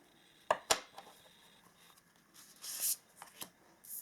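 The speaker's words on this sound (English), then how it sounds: "Let us pull 6 cards" Tarot cards slide out of a deck and get flicked down, making a couple of crisp snaps and then soft shuffling rustles, quiet and close, with no speech.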